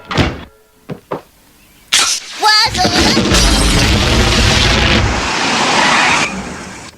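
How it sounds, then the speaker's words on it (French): A cartoon explosion at the Simpsons' house, with beer gushing from the chimney: a sharp crashing burst gives way to a loud, sustained roaring gush that fills several seconds before cutting off. "Je crois bien qu'il y a une explosion chez les Simpsons."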